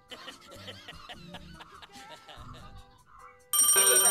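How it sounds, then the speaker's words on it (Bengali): A phone ringtone for an incoming call from home cuts in loud and bright near the end, after a stretch of background music with chatter and laughter. "বাসা থেকে ফোন আসছে।"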